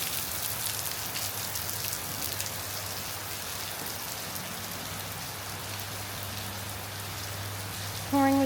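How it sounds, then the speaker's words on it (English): Heavy rain pours steadily at a beach resort in North Bali, a dense, even hiss of drops on surfaces running throughout, with a low steady hum underneath and a short louder burst near the end. "Pouring with rain, and there are 3 girls having massages over by the pool."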